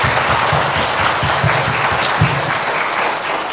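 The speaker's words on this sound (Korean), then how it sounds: "그런 청년의 되기를 위해서 박수 한번 쳐줍시다." A church youth group congregation claps in a steady, dense round of applause that fills the room throughout, with no speech over it.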